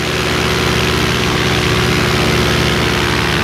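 A Solo 210 paramotor engine runs steadily and loudly up close, a continuous buzzing drone with no pauses or changes in pitch.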